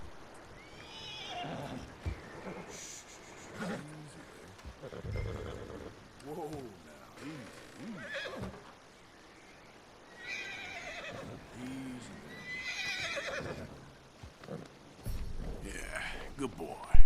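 A horse in the video game Red Dead Redemption 2 neighs and whinnies several times, with clip-clopping hooves between calls, while people talk over the game sounds.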